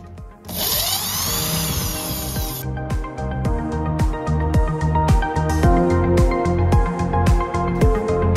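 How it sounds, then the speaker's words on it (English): A handheld power drill whirs steadily at first, then gives way to a run of repeated short bursts and clicks while unscrewing 8mm Allen screws from a wooden machine crate, loud and close. "For opening this package, we need help from this"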